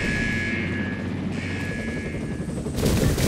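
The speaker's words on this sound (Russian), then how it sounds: "Приближается вертолет противника!" An enemy helicopter approaches in the Arctic Combat video game, with a continuous loud rotor thrum and whine that swells near the end, mixed with bursts of gunfire and no talking.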